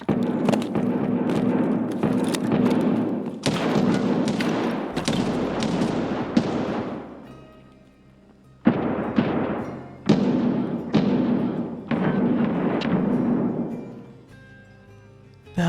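Gunfire in the video game Escape from Tarkov: loud, close bursts of rapid shots with sharp cracks and booming echoes, coming in several volleys separated by short pauses.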